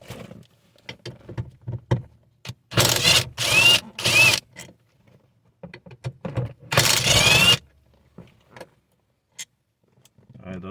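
Impact wrench loosening airbag module bolts on a Nissan/Infiniti steering wheel: two close, loud rattling bursts about a second each, then a longer burst, separated by quiet clicks and handling noises.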